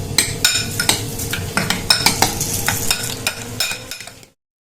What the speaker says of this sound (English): And take the spoon, we're gonna mix it up.